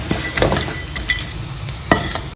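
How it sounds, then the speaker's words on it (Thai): Small fish frying in hot oil, with a steady close sizzle and a few sharp scraping clinks of a utensil scooping them out of the pan. "ตอนนี้ปลาปลาของเราก็สุกเหลืองใช้ได้แล้วนะคะ เราก็จะตักขึ้น"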